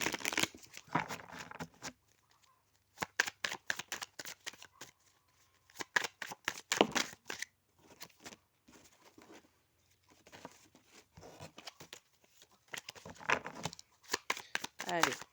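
Tarot cards being shuffled by hand in quick bursts of riffling slaps and soft flicks, close up, with pauses between runs and someone speaking softly at times.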